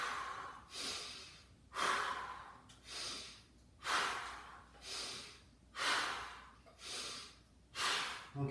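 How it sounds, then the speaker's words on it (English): Slow, regular breaths in and out during a chest press done lying down with water bottles as weights, eight or so strong rhythmic exhales and inhales up close, with no talking. "Breathing in, out,"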